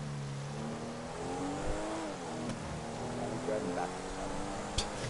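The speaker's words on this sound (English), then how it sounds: "And now he's driving backwards" A car engine revs and whines as the car reverses in the video game GTA Online, its pitch rising and falling continuously with a brief tire squeal, while players talk over it.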